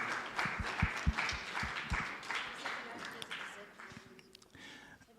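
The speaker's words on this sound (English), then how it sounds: "a round of applause for your beautiful self for being here" Seminar audience applause at an annual post-school education and training seminar in the Northern Cape, a moderate wash of many hands clapping with a few sharper claps standing out, then tapering off toward the end with some voices underneath.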